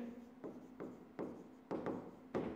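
Pen writing by hand on paper while working an accounting entry, a soft scratchy rubbing in several distinct strokes that start abruptly, close and quiet, with no speech.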